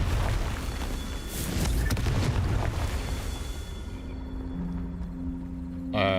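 A Confringo fire spell cast in Hogwarts Legacy bursts as a loud, rumbling blast with a sustained roar that tails off, followed by a faint tonal hum and a brief bright swish at the end.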